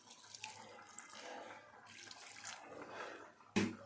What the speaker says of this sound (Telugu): వాటర్ వేసుకోవాలండి